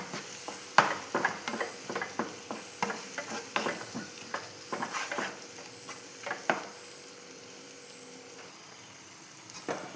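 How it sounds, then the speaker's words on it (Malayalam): Beef frying in oil in a pan while being stirred, a steady sizzle broken by repeated scraping stir strokes, close and clear, with no voices. "ഒട്ടി പിടിക്കാതിരിക്കാനായിട്ട് ഇടയ്ക്കിടയ്ക്ക് ഒന്ന് ഇളക്കി കൊടുക്കണേ ഇനി ഇതൊന്ന് മൊരിക്ക് വരട്ടെ"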